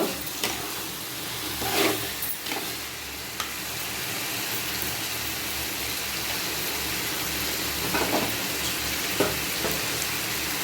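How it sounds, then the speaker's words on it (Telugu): Chicken curry sizzles in a pan while it is stirred, a steady frying hiss with occasional scraping and clinks of the spoon, close and continuous. "బాగా కలుపుకోవాలి అడుగంటుకుంటా."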